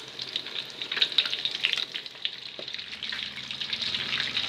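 Caramelized banana pieces frying in hot oil in a pan give off a steady, close hissing sizzle with fine crackles, continuous throughout and with no voices.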